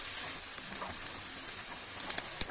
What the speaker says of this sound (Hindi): प्याज को मैं एक दो मिनट ऐसे ही चलाऊंगी